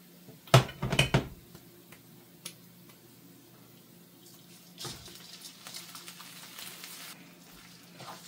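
Cooked rice tipped into hot oil in a frying pan: a couple of loud metallic clatters from pan and utensil near the start, then a quieter spell and a stretch of soft sizzling and scraping as it fries.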